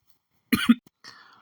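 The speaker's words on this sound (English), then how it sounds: "I got coughing" A single sharp cough up close, followed by a short raspy throat-clearing after a brief pause, against near silence.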